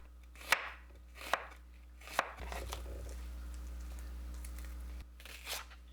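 A knife cuts onion into thin strips on a board: three sharp, evenly spaced chops, then a quiet pause with low background hum, and a final softer cut near the end.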